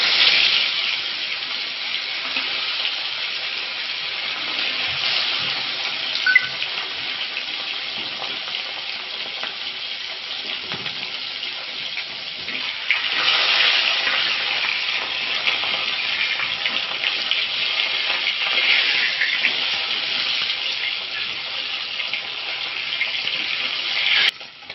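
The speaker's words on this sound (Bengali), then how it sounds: "মাছ ভাজা করে নেব।" Bhetki fish, coated in salt and turmeric, fries in hot mustard oil in a kadai, giving a steady, close crackling sizzle that swells in the second half, with occasional stirring or spatula sounds.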